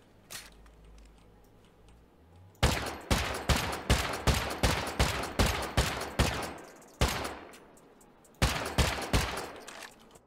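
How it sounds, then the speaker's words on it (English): Rapid rifle fire aimed at a fence in the survival game Rust, sharp loud shots in fast evenly spaced bursts, one long run of about a dozen rounds, a single shot, then a shorter burst, with no talk over it. "If I just shoot the fence."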